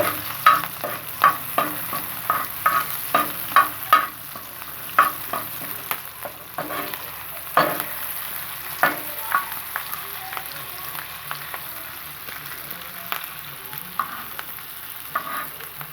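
Green chillies frying on a hot tawa for spicy kaleji, with a continuous sizzle broken by repeated sharp scraping strokes of a spatula stirring, close and fairly loud, no talk.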